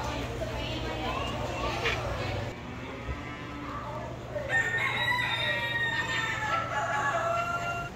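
Chickens and a rooster in a county fair barn, near newly hatched chicks, with clucking and crowing calls over a steady background hum while people talk nearby.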